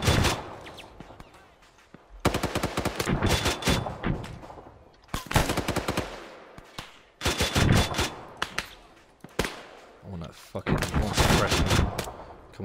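Bursts of gunfire in the Arma 3 military shooter, loud clustered volleys and rapid automatic fire arriving in repeated waves across the clip, with short lulls between bursts.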